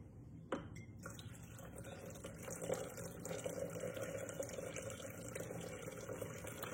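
Water, 200 grams, is poured into a Thermomix bowl, giving a soft continuous trickling splash after a small clunk near the start, quiet and close with no speech.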